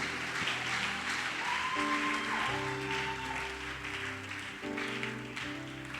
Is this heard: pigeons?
no